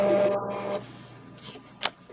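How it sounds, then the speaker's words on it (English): A printer runs while printing a decal order, giving a steady mechanical whir that fades into quieter ticks and short clicks over a couple of seconds. "It was a printer for decal order."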